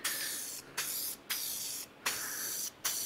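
A rattle can of spray paint hisses in four close bursts, each lasting about half a second with brief pauses between, steady and moderately near, with no talking.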